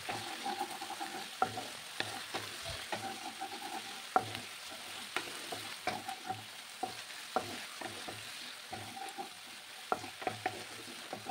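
A spice paste fries in a pan with a continuous low sizzle, punctuated by frequent sharp scrapes and clinks of a spoon stirring it, close and without any talking.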